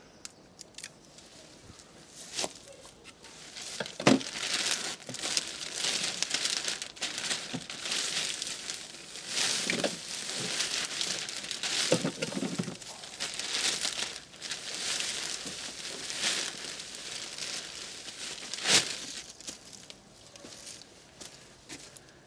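Green grafting tape is handled and the excess is cut after tying a half hitch on a cleft graft of a Russet apple, with close crinkling, rustling and a few sharp snips that come and go over a quiet background.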